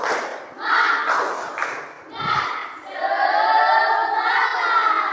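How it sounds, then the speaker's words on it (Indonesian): A classroom of students performs a rhythmic spirit clap, with claps and thumps under loud group chanting and shouting voices that swell and hold near the end. "tepuk semangat sekali, tepuk semangat"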